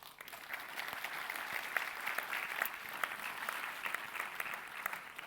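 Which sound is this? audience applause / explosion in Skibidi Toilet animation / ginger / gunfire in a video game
audience applause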